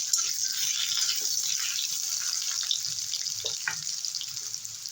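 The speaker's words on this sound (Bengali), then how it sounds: "আলুটাকে নেড়ে চেড়ে কষিয়ে নিলাম" Potatoes stir-fried in oil left from frying fish give a steady close hiss with small scraping and rattling touches throughout.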